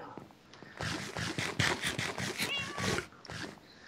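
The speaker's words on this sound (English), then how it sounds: "I heard a cat." A cat meows in a rapid run of short repeated calls, loud and close with slight scratching between them, under a quiet room background.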